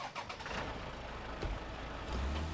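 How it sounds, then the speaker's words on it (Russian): Off-road vehicle in the SnowRunner game, using a UAZ engine sound, droning steadily at low volume with a slight swell toward the end. "звук у этой машины от УАЗика"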